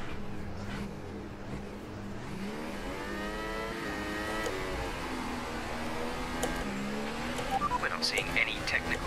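An F1 race car engine in the F1 2018 video game revs and rises in pitch at the race start, a steady whining engine note that climbs and shifts, heard fairly quietly throughout.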